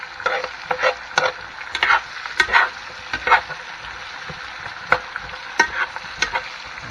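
Chicken and bacon frying in a Presto electric skillet: a steady close sizzle with repeated scraping stirs and clicks of a utensil throughout.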